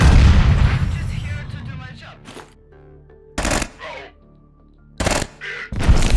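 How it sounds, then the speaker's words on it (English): Grenade launcher fire in the space horror video game Quasimorph: a loud blast opens and fades, followed by several short, sharp bursts spaced around a second apart. "I love the grenade launcher."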